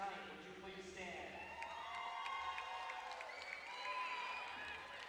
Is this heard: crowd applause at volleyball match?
yes